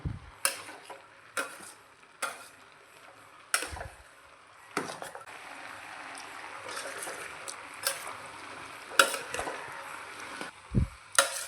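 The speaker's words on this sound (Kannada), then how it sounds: "ಅದಕ್ಕೆ ಒಂದು ಚಂದ ಒಗ್ಗರಣೆ ಕೊಡುವ ಈಗ ನಾವು" Spices being tempered in hot oil for a jackfruit and chickpea dish, with a sizzle running under repeated sharp clinks and scrapes of a spoon against the pan.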